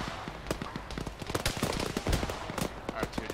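Rapid bursts of gunfire in the ShackTac military video game, sharp cracks coming in uneven clusters and overlapping volleys, near and loud throughout.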